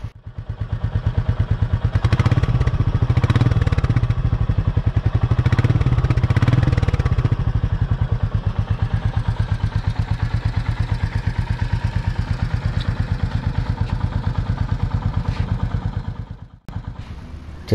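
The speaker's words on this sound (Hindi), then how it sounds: "इंजन को थोड़ा रेव करना तो बनता है. चलो देखते हैं इंजन रेव करने पे कैसे साउंड करती है." A Royal Enfield Meteor 350 single-cylinder engine idles with a steady thumping beat, then is blipped through a few loud revs close by before settling back and cutting off near the end.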